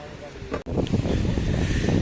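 Steady wind rushes across the microphone in a continuous low roar at an outdoor scooter riders' meetup, with a brief dropout early on before the gusting noise resumes.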